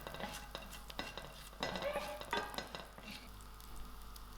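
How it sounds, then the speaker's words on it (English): Mustard seeds hit hot olive oil in a pan and sizzle quietly, with small crackling pops and a few scrapes of a spoon scattered through the soft frying hiss. "To this oil, I'm going to add in my mustard seed"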